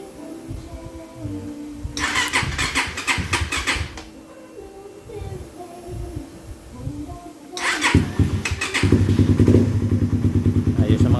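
A Suzuki Raider Fi motorcycle engine, just after an ECU reset, cranks and catches, then runs in a steady close idle. Bursts of clattering and thumping come in around it, and voices speak in the background.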